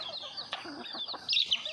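Backyard chickens, including a fierce, hot-blooded mixed-breed rooster, cluck and chirp nearby in a series of short, bright calls with a louder burst toward the end.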